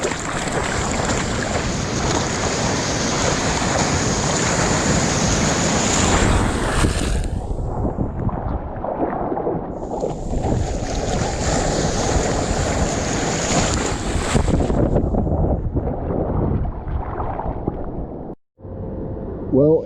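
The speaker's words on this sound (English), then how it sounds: "You can see it peaking up, and then it breaks, and then it just fades into the deep water" Ocean surf rolls and breaks along a beach bay, a steady loud wash of water mixed with wind buffeting the microphone, surging in two long waves of noise before easing off near the end.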